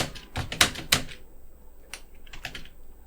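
Keys tapped on a computer keyboard, with a quick close burst of clicking keystrokes, a short pause, then a few more taps, heard alone with no talking.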